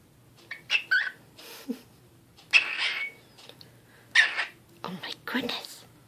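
A pet cockatiel chirps and whistles in short bursts close by, with a few pauses between calls, while a person speaks softly nearby.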